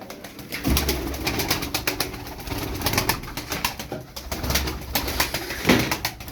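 Pigeons coo in a loft, including a smoky-grey (dumanlı) bird, soft repeated throaty coos layered over constant chatter of many birds, with occasional wing flutters nearby.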